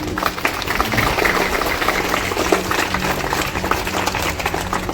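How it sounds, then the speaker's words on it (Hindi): A crowd at Green Plateau Public School in Kanke, Ranchi, applauds the teachers at a school function. Dense, loud, even clapping fills the whole stretch without a pause. "एक ताली तो टीचर्स के लिए भी बनता है"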